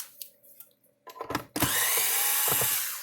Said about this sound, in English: let's take these screws out of it